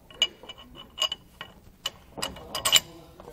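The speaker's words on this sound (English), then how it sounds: "Now we can go ahead and torque down all our saddle brackets to the specifications in our instructions." Torque wrench ratcheting on saddle bracket bolts of a Roadmaster rear anti-sway bar on a 2009 Workhorse W-Series chassis, giving a few sharp, close mechanical clicks in short bursts with brief gaps between, with no talk.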